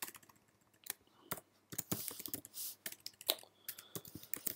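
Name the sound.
typing on computer keyboard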